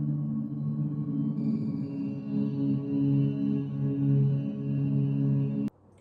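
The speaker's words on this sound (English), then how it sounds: "turn it really, really far down so that you can hear what only the reverb sounds like" The reverb-only signal of a music mix: a washy, reverberant tail with sustained tonal layers and little attack, steady and moderately loud before cutting off abruptly near the end.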